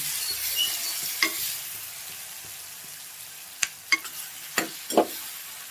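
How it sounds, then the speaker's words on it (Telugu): Asafoetida and turmeric being stirred into simmering moong dal for a Telugu-style pesara pappu charu: a soft background hiss broken by a few sharp scrapes and taps of a spoon against the pot, no voices. "పసుపు వేసి కూడా బాగా కలపండి"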